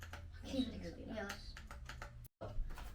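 Typing on a Koorui MK-082 keyboard clatters steadily beneath a talking voice, with a brief silent gap near the end before the tapping resumes.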